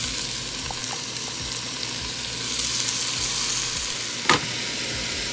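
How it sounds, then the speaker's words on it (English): Sausage sizzles and fries steadily in a pot for a low-carb Tuscan soup, a constant close crackle with a brief stir or scrape near the end, and no talking. "I'm gonna add in the sausage and season as I go."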